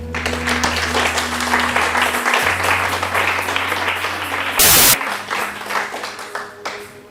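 A church congregation applauds steadily throughout, a dense wash of clapping over a low sustained organ-like drone, with a brief loud burst partway through.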